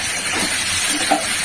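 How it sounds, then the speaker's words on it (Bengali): Prawns frying with bottle gourd in a pan, giving a steady, close, broadband sizzle and hiss throughout with no voices. "এবারে চিংড়ি মাছগুলো দিয়ে দিচ্ছি। আচ্ছা এটা দিয়ে একটু কষে নিলাম"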